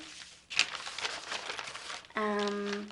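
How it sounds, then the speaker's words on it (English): A sheet of newspaper gets folded up after a bind-and-bleach fabric art project, a close burst of crinkling and rustling paper that fades as a voice begins speaking at the end. "You can fold up your newspaper"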